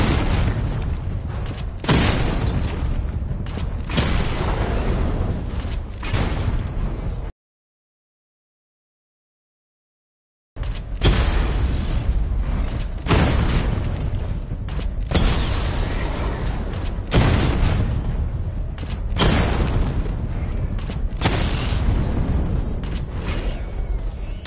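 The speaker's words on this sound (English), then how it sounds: "I need to power up the secondary weapon to level 2 before firing." A secondary weapon fires in the Batman: Arkham Knight video game: loud, dense booming blasts and mechanical rumbling that run continuously, broken once by a few seconds of complete silence.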